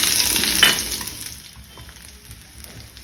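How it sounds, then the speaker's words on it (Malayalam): Cinnamon, a bay leaf and onion fry in hot coconut oil, giving a loud, close sizzle that peaks early with a brief crackle and then eases to a softer steady frying hiss, with no voices. "എണ്ണ ചൂടായിട്ട് ഒരു കഷ്ണം പട്ട, ഒരു ബേ ലീഫ്, പിന്നെ ഒരു ചെറിയൊരു സവാള ഒന്ന് ഇട്ട് കൊടുക്കാം."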